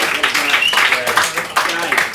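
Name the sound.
audience applause for Sean's last show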